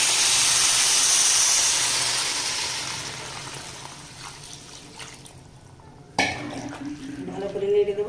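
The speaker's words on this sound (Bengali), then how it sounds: "মশলার মধ্যে সবজিগুলো খুব ভালো করে কষিয়ে নিয়েছি, এখন পরিমাণ মতন জল দিয়ে দেবো।" Water poured into a pan of vegetables and prawns frying in spices for a curry, a loud steady sizzle and hiss that fades over several seconds before a sharp clatter and renewed bubbling.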